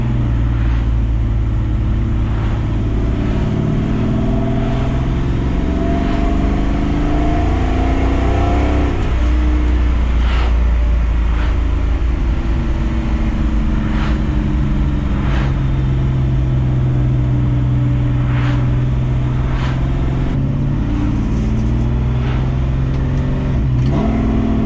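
A fully built 1957 Chevrolet Bel Air on older suspension cruises city streets, its engine a loud, continuous low rumble from inside the car that rises and falls with throttle, with occasional bumps and rattles.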